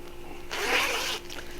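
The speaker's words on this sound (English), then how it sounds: "So it has this main compartment here in the back, zipper, and then the front zipper" A zipper on a bag's front compartment is pulled open in one smooth, steady stroke of under a second. It sounds close and stands alone against a quiet room.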